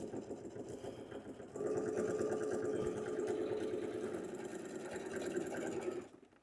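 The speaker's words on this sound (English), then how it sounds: "I'm going to stitch on the diagonal again." A sewing machine stitching a quilted bag on the diagonal, its rapid mechanical whir starting softly then running loud and steady for several seconds before stopping, close and without talk.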